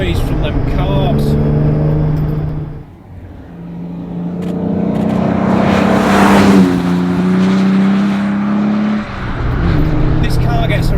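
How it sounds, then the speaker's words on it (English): An Aston Martin DB5 engine breathing through carburettors revs up and down in a closely heard cabin, its rising and falling drone swelling loud in the middle of the passage with brief dips in between. "Oh, that noise from them carbs."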